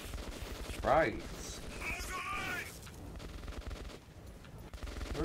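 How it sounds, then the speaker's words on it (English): Bursts of gunfire in the post-apocalyptic shooter Metro 2033 Redux, a loud volley near the start settling into steady rattling shots, with a game character's voice speaking over the fighting. "Where are these people shooting?"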